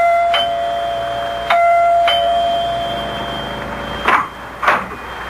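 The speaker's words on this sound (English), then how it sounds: "It is the next morning, and Dr. Lem Regan rings the doorbell of Clyde Wilkins' house." A house doorbell chimes three times in quick succession, clear and close, followed by two dull knocks or thumps, in a radio drama.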